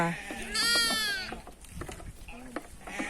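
A goat lets out one loud, wavering bleat near the start at a goat and sheep farm in Thailand. Afterward comes softer animal noise and people chatting nearby.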